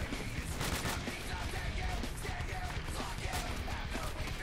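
Dense, rapid volleys of gunfire crackle in a United Operations military video game battle at Wanat, with overlapping shots forming a continuous, fairly distant-sounding barrage.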